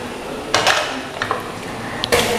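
A lid is lifted off a cooking pan of fish thoran, giving a few short metallic clinks and clanks spaced over a couple of seconds against quiet kitchen background.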